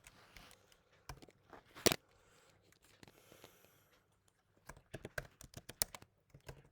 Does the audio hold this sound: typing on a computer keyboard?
yes